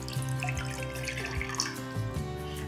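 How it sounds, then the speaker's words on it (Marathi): Water is poured into a pan on the stove for cardamom tea, a steady splashing stream heard alone, with a faint hum behind it. "1 कप पाणी आणि पाण्याला छान उकळी काढून घेऊयात।"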